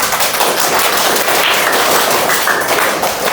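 Students in a classroom clap together, a loud, dense burst of applause that holds steady for a few seconds close by.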